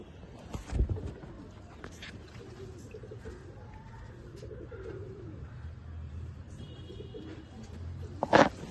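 Pigeons in a rooftop loft in Chinsurah, Hooghly, give soft low coos at fairly close range, with a few sharp knocks or flutters near the start and end against a quiet background.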